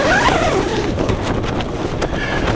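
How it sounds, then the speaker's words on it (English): Gale force wind batters a tent campsite in the Peak District, where a Lanshan 2 tent is pitched: a loud, continuous roaring rush with gusty buffeting against the microphone. "Oh my god, that wind really is brutal."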